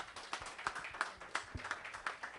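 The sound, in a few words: congregation applauding in church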